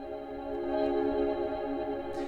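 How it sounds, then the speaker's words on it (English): Sustained, shimmering synth pad made from a pot and a pan struck together and heavily processed, played in reverse so it swells steadily, with dense ringing tones and a bright burst at the end. "this is a pad that I created by whacking a pot and a pan together and then doing some crazy shit to it."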